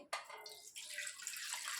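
Cold boiled-and-cooled milk is poured into a mixer jar for an Oreo milkshake, giving a close, continuous splashing gush that starts abruptly and runs steadily to the end without any talk.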